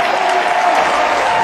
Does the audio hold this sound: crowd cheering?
yes